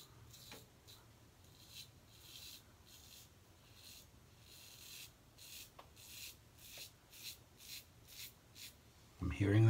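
A safety razor, a PAA Alpha Ecliptic slant or a Muhle R41, scrapes across facial stubble while taking off a goatee. Soft raspy strokes repeat in short bursts, close and quiet, with a louder handling noise at the end.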